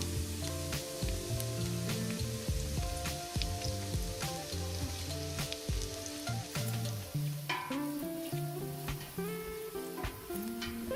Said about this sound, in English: I fry them in sunflower oil.